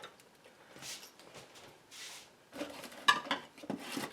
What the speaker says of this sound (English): And I'm going to mash them down